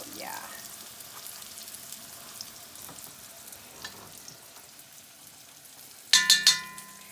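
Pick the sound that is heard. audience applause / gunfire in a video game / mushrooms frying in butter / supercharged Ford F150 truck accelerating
mushrooms frying in butter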